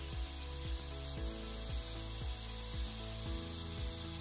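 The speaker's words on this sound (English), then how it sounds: "Now start to slowly unscrew, counterclockwise, the relief valve's pilot screw until the valve opens slightly." Relief valve pilot screw being turned counterclockwise on a pressure reduction station, giving a steady series of low ratcheting clicks roughly every half second over a continuous mechanical hum.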